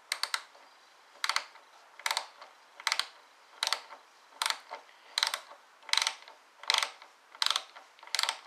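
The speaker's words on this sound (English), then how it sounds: "nip everything up with our socket" Socket wrench ratcheting as Honda brake line fittings are snugged up, about a dozen short clicking bursts in a steady rhythm, close and clear with no talking.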